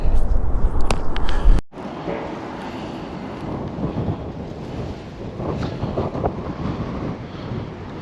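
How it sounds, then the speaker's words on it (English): Steady gusting wind roars across the microphone, with a heavier buffet at the start before it settles into a constant rush. "Just an absolute windy day today."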